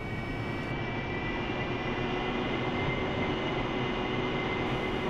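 AV8B Harrier jet engine spooling up to 60% RPM in the DCS flight simulator, a constant dense turbine roar with a high whine, steady and loud throughout.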